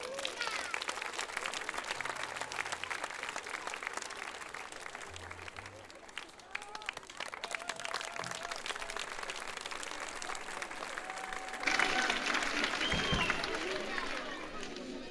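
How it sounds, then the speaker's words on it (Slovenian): An audience at a choir concert in Ribno applauds, with steady clapping and crowd murmur running on at moderate distance and swelling louder near the end. "pa dajmo en aplavz."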